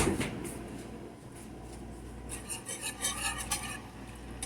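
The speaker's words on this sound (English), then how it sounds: "you're going to whisk this around until it gets to be like a sauce" A whisk scrapes and swirls around a pan as milk is worked into a sauce, soft rhythmic clinks and stirring up close with faint sizzling underneath and no talking.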